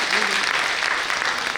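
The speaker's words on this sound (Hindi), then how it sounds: "जोरदार तालियों से अपने लिए अपना स्वागत" Audience applause at a poetry gathering in New Delhi, a dense, loud, continuous clapping that fills the whole short stretch without pause.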